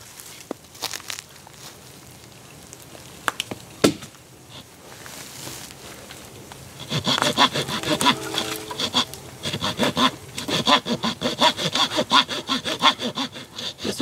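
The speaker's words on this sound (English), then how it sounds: "We'll cut two notches in it, stick our grills, and see what we get." A hand saw cuts notches into a dead hardwood stump outdoors; after a few scattered knocks, steady rhythmic rasping strokes begin midway and continue close and clear to the end.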